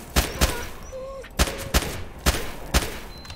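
Pistol gunshots in the S.T.A.L.K.E.R. mod NLC7, six sharp loud cracks fired singly at irregular intervals of under a second, with faint game sounds between shots.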